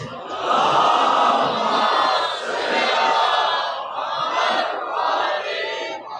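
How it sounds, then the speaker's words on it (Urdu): A large congregation in a mosque loudly chants salawat in unison, a dense, sustained roar of many voices that swells and dips in waves across the whole clip. "اس سے بلند صلوات"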